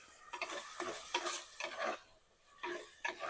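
Quiet sizzling of onions sautéing in a pan with repeated scraping strokes of a spoon stirring, in an irregular rhythm, close by and with no talking.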